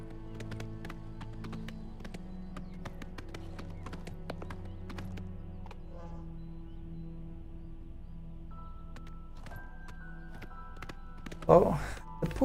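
Horse hooves clip-clop in a steady, quick rhythm over tonal music in the game Oblivion, ending with a louder burst of noise.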